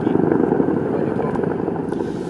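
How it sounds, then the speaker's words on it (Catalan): Helicopters fly over an area near military operations in Iraqi Kurdistan, giving a loud, steady rotor drone with rhythmic chopping pulses. "Helicòpters sobrevolant la zona"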